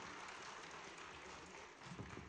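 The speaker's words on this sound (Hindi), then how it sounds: "जोरदार तालियां श्री रणदीप हुड्डा जी करें।" Faint, continuous applause from an audience at a cultural heritage event in Ravindra Bhavan, Bhopal, welcoming actor Randeep Hooda, a dense wash of clapping heard from a distance throughout.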